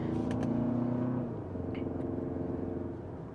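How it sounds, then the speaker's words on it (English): A 2027 Kia Telluride's four-cylinder engine gives a low, steady rumble from inside the cabin while driving, moderate in level, with a brief tonal hum early and no voices. "It's gonna have that 4-cylinder rumble that we all know."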